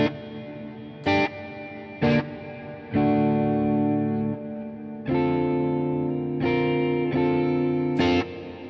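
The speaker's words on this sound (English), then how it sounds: "Let's turn that off and try the reverb, how big the room can get." An electric guitar played through the Nembrini Range 120 amplifier app on iOS with reverb turned all the way up, giving short strummed chords and sustained distorted notes that ring out in a wide, washy tail, with no talking.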